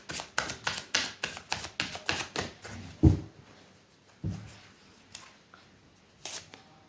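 Tarot cards are shuffled by hand in a quick run of crisp, regular riffling slaps, followed by a few isolated thumps and taps as the deck is squared and set down.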